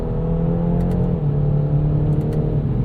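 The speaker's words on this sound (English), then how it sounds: "you'll hear the engine come in after the graphic is updated" A BMW 430i engine, in a 2021 convertible, revs during a quick downshift, a steady mid-pitched drone that holds throughout with a slight shift in tone partway through, heard close from inside the car.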